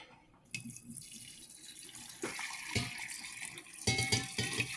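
Hot water is poured over tea, a steady liquid stream that starts after a short pause and strengthens in stages, fairly faint and with no talk.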